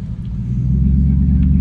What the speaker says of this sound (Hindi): अब गाड़ी को थोड़ी सी रेस देते हैं